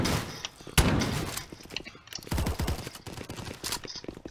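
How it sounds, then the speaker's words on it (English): A double-barrel shotgun fires in a Roblox game, with a sharp, loud blast near the start followed by a rapid stream of clattering gunfire and impacts, busy and close, without any talk. "Okay, double barrel shotgun."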